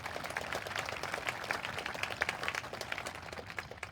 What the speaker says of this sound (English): How about some applause for the conditions of the grounds?